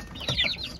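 Caged chicks give a brief, soft chirping cluck, a single short call lasting under a second with no other sound around it.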